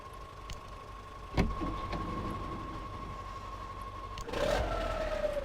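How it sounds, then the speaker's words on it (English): A truck engine idles steadily in the off-road driving game Mudrunner, a low continuous drone with a sustained tone, a sharp knock early on and a rising mechanical whine near the end. "Will it stop this engine, or do I need to stop it myself?"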